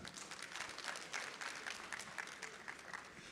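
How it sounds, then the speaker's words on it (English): Audience at an annual colloquium and exhibition clapping together, a faint, steady patter of applause that holds for a few seconds in a large hall. "Let's give her a big round of applause one more time."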